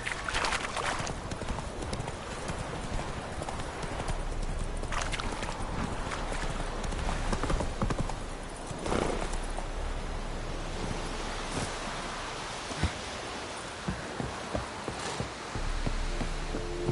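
Horse hooves clip-clop steadily from Roach, a horse in a video game, set against a wash of game ambience with water and wind, with no talk over them.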